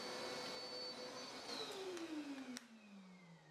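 A workshop dust collector pulls air through the table saw hose with a steady, loud roaring whoosh, then the motor winds down with a falling whine; no talking.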